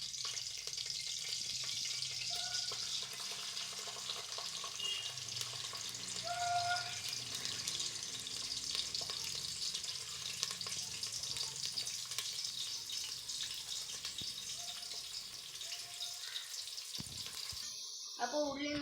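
Onions and curry leaves fry in hot oil for a home chicken curry, giving a steady, close sizzle that holds evenly from start to finish with no pauses.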